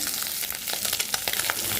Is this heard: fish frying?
yes